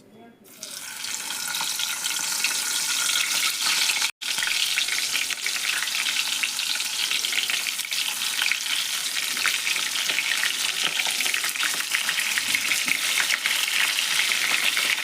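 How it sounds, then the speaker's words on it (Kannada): Masala-stuffed brinjals frying in hot oil for a North Karnataka badanekayi dish: loud, dense, continuous sizzling that surges up as they drop in, with one brief break, close by. "ಈಗ ಇವನ್ನ ಮಸಾಲ ತುಂಬಿದ್ದು ಬದ್ನಿಕಾಯಿ ಅದಾವಲ್ರಿ, ಇವನ್ನ ಒಂದೊಂದು ನಾನು ಎಣ್ಣೆ ಒಳಗೆ ಬಿಡ್ತೀನಿ ನೋಡ್ರಿ"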